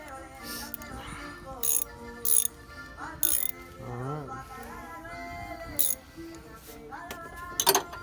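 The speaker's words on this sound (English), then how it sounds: "we're going to tighten up the bottom screw" Ratchet tightening the bottom screw of an alternator on a 2008 Honda Accord, with short bursts of clicking between stretches of background music and a low mechanical hum.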